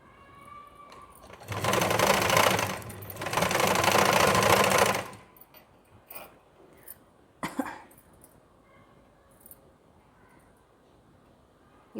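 Sewing machine stitching a blouse, two sustained loud runs of fast motor whir with a short pause between, then quieter handling and a brief thump afterward.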